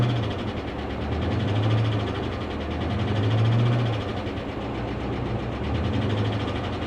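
A tornado-damaged Dodge Charger Scat Pack engine idles low and steady, with a faint rapid tapping ticking through the hum; no one speaks.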